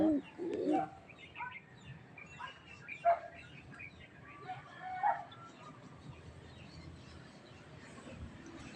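Pigeons cooing in soft, intermittent low calls, with a few brief chirps scattered over a quiet outdoor background; a voice is faintly present.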